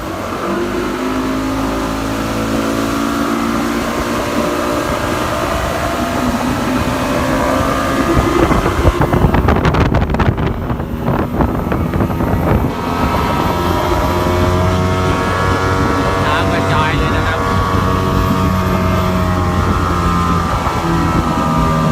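A Yamaha LS 17 jet boat runs steadily on the water, its engine a loud, continuous roar with rushing water noise that swells briefly mid-run before settling back to a constant drone.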